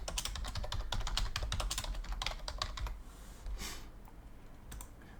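Rapid clicking keystrokes on a computer keyboard while filling in an online form, with steady bursts of typing, then a brief pause and a few final taps, close and clear with no talk.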